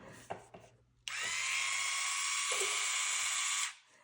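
A Beautural electric nail file whirs up after a few light taps, holding a steady high-pitched buzz for about two and a half seconds with a brief drop in pitch midway, then stopping.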